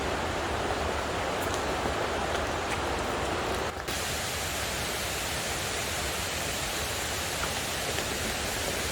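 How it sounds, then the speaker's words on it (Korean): A mountain valley stream on a forested summer hiking trail rushes steadily and loudly, a dense continuous wash of flowing water with no voices, briefly dipping for an instant midway. "쓰러져 있는 나무부터 계곡 소리가 들리기 시작했습니다"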